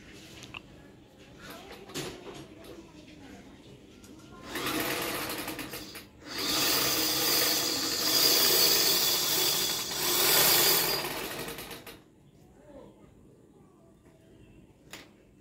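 A sewing machine winds thread onto a bobbin: quiet handling sounds first, then a fast, steady whirring run that stops briefly, resumes louder for several seconds and ends, with soft background sounds around it.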